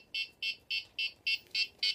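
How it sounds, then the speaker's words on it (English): FPV goggles for a WLtoys V686g drone beeping while binding: seven short, evenly spaced electronic beeps in quick succession, close and fairly quiet, with no talk. "It's gonna beep and then connect"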